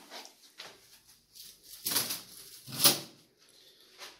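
A goldfinch in a small cage flutters restlessly, giving soft, scattered bursts of wingbeats and perch rustles, with two louder flaps standing out in an otherwise quiet room.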